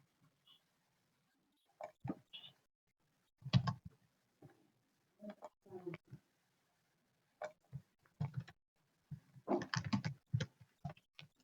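Sparse, quiet keyboard clicks come in short irregular bursts while a key is held during computer coding work, separated by brief silences.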